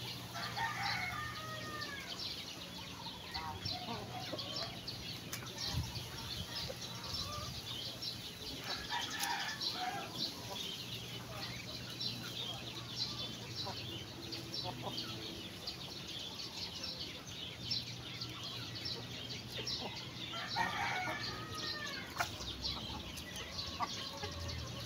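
Native chickens and a rooster at an afternoon feeding, with clucking, flapping wings and occasional crows over steady outdoor background noise, moderately distant and without talk.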